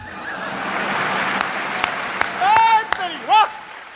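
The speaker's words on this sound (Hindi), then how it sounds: "तालियां कम है, थोड़ी मिलके बजे यार" Applause at a Hindi comedy poetry gathering, a steady moderate wash of clapping heard throughout, with a voice speaking over it toward the end.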